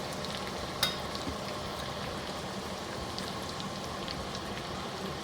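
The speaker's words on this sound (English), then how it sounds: "garlic turns brown, because that nice tadka flavor is really going to enhance the flavors of the dal makhani" Garlic frying in hot oil for a dal makhani tadka, giving a steady, dense sizzle with a soft crackle that holds at an even level throughout, with one small pop near the start and no talking.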